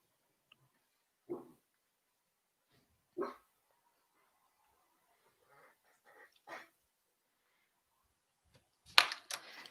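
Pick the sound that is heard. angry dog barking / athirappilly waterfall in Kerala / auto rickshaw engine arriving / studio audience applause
angry dog barking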